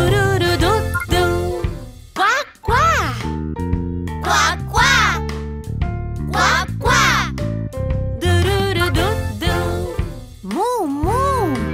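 A duck on a farm quacks in a bright children's song, its cartoonish calls repeating in a lively rhythm over sung melody and music.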